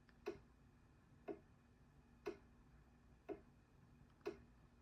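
Steady grandfather-style ticking from a Klydoclock clock: five evenly paced, crisp ticks about one second apart, fairly quiet against a low hum, with nobody speaking.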